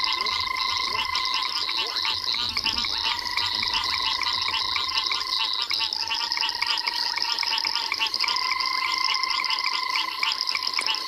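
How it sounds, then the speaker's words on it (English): Caco frogs keep up a high-pitched, rapid trilling chorus, steady and continuous throughout, with layered pulsing calls blending into a dense wall of sound. "There's some cacos calling a very high-pitched trilling sound."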